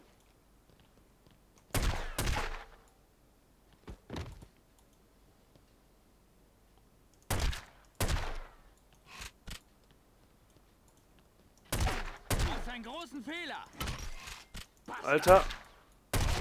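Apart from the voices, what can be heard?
gunfire in The Godfather video game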